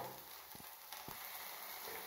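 Ingredients fry in a pan with a steady, faint hissing sizzle, the constant crackle broken by a few soft stirring scrapes and no voices.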